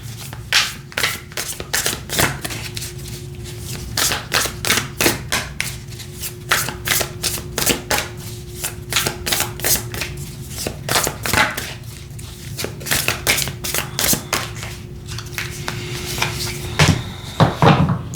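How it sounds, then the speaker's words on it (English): Tarot oracle cards being shuffled by hand, a long run of quick, crisp riffling and tapping bursts in irregular rhythm, close and fairly loud, with a soft steady hum underneath. "you saw me shuffling"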